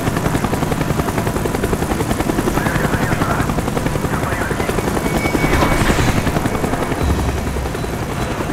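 Steady, loud helicopter rotor thump and engine drone from the Call of Duty: Black Ops video game, continuous and close throughout with no voices.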